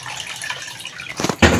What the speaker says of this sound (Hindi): अब इसमें थोड़ा सा हम पानी और डालेंगे